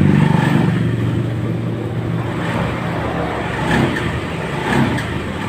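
A Honda Beat FI scooter engine with a starting fault is throttled and struggles to catch, a close, rough low drone that swells and sags unevenly without settling into a clean rev.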